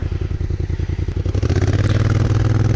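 Honda Africa Twin motorcycle stuck in sand, its engine pulsing loudly up close and then revving higher and harder with a rough, throbbing rhythm.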